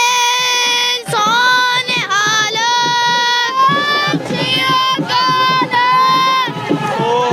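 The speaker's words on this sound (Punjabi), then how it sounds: "ਬੱਚਿਆਂ ਵੱਲੋਂ ਵੀ ਬੋਲੇ ਸੋਨ ਹਾਲ ਦੇ ਜੈਕਾਰੇ ਛੱਡੇ ਜਾ ਰਹੇ ਹਨ" A Sikh congregation, children among them, at a large Nagar Kirtan procession from Gurdwara Sri Fatehgarh Sahib shouts Bole So Nihal jaikara slogans. Loud, sustained chanted calls and crowd shouts repeat in waves, close and dense.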